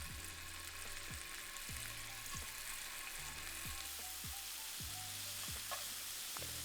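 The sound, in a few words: scallops searing in a hot oiled pan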